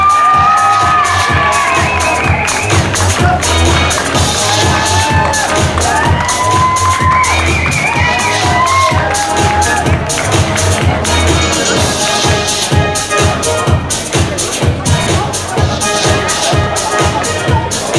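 An audience at a pageant catwalk show cheers and applauds through a steady crowd roar, with whoops and shouts over loud rhythmic music thumping underneath the whole time.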